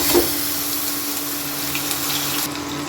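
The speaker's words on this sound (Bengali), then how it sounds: "এবার এর মধ্যে দিয়ে দেব বেটে রাখা সেই পেঁয়াজ আদা রসুনের পেস্ট" Onion, ginger and garlic paste hits a pan of fried chicken and sizzles steadily, a loud, constant frying hiss up close that eases slightly near the end.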